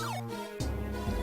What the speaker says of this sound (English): that was the sound of the door appearing